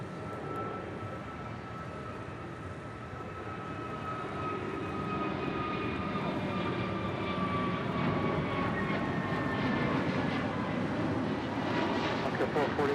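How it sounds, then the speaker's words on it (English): Alaska Airlines A321neo jet departing Los Angeles International Airport on a flight to Cancun, a steady broadband engine roar with rising whine tones that grows louder over the span, with talk faintly present. "That is Alaska Airlines Flight 440 departing to Cancun on an A321neo"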